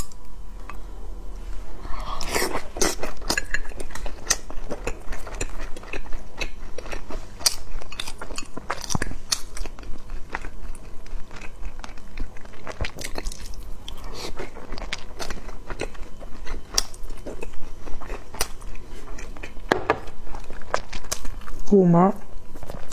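Someone chewing and eating xiaolongbao soup dumplings, with close, continuous wet bites and crunchy mouth sounds repeating irregularly across the whole stretch, loud and near.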